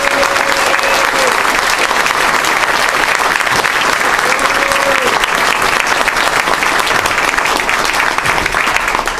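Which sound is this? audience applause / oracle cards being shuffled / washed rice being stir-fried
audience applause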